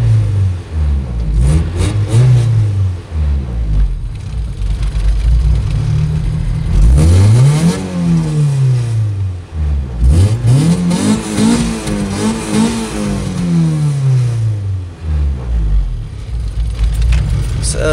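A Honda Civic with a B20 engine and Yonaka exhaust revs repeatedly, rising sharply from a rumbling idle to high RPM and falling back in several close, loud sweeps.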